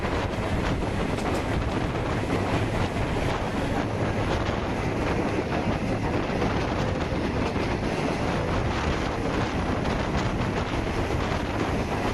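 A passenger train running from Dhaka to Cox's Bazar, heard from inside as a loud, continuous rumble and rush of wind with faint wheel clatter throughout.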